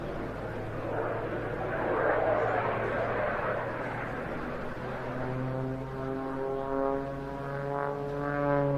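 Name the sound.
aerobatic aircraft flying at an air display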